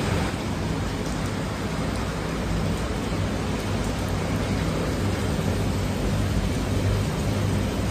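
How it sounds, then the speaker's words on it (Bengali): Heavy rain pouring steadily outside a beach resort at Mandarmani, a dense, unbroken hiss that stays loud and even throughout with no voices. "পুরো বাইরে এত বৃষ্টি হচ্ছে আমরা টোটালি বেরোতে পারছি না।"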